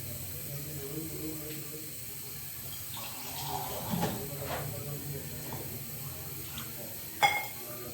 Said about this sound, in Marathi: थोडं मी याच्यामध्ये पाणी टाकणार आहे आता.